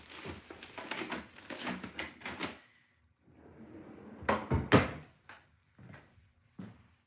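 Small drawers in a shirt-printing workspace are pulled open and pushed shut several times in a row, giving a cluster of close wooden-sounding bumps and scrapes with short pauses between them.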